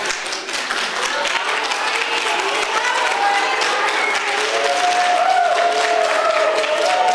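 An audience in Zurich applauds a guest during Petro Poroshenko's speech. Loud, sustained clapping fills the room throughout, with scattered cheers and voices rising within it.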